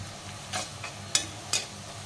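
Onions frying to a deep brown for birista for chicken biryani, a soft steady sizzle broken by two or three sharp scraping stirs of the spatula.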